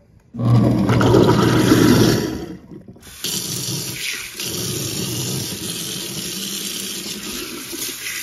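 Water rushes loudly down a kitchen sink drain, a close gurgling roar that cuts off briefly, then resumes as a steadier, quieter draining flow.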